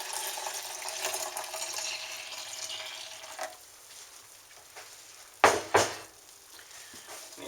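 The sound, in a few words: kombucha poured from big bottle into pitcher in sink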